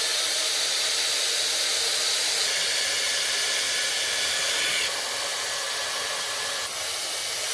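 A Dyson hair dryer blows hair at close range, a steady, loud airy rush that holds continuously with only slight shifts in pitch and no voices.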